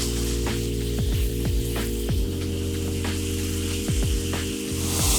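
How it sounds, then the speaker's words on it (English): Garlic and pork mince stir frying in a hot pan, a continuous loud hiss of sizzling with a steady hum underneath and periodic clicks and scrapes from stirring, no talking. "Now just spread that pork out and stir fry it until it's almost cooked."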